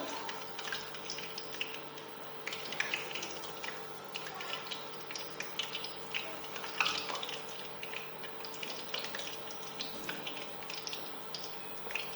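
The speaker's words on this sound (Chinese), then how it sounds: "油炸的目的呢，就是使它这个豆子啊更加的酥脆，然后等下油炸出来是非常香的" Beans deep-fry in hot oil for a crisp, fragrant Guangxi-style fried snack, giving a quiet, continuous sizzle dotted with fine crackles and small pops, heard close with no talking.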